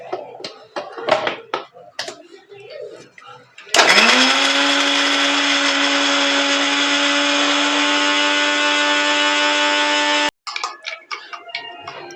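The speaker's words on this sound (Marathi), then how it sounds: "आपल्याला काजू बारीक करून घ्यायचे आहेत" A kitchen blender grinds soaked cashews into a paste, starting abruptly and running as a loud, steady whir for about six seconds before cutting off, with talking before and after.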